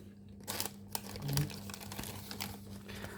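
Crinkling of a plastic packet of Italian dried herbs with garlic being handled close by, a series of irregular rustles and crackles with a faint background hum.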